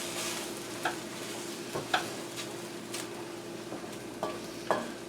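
Kung Pao chicken is stirred into sauce in a hot pan, with a steady sizzle and frying hiss broken by several sharp scrapes and clicks of the utensil against the pan.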